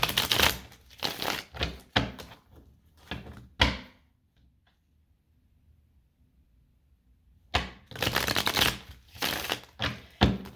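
Tarot cards shuffled in bursts of quick riffling and flicking, close and crisp, with a few seconds of near silence between the two rounds of shuffling.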